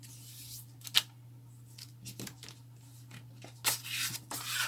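Paper is creased and folded by hand to shape a double-canard paper airplane. Soft rubbing and sharp crisp folds come at irregular moments, close by, over a steady low hum.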